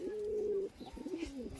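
A racing pigeon coos close by in two drawn-out, throaty calls, the second wavering, with no talk over it.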